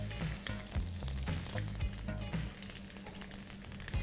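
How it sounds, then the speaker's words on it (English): A steady, crackling sizzle of onions frying in a hot pan, quiet and continuous with small pops throughout. "Allow that to sizzle and start melting."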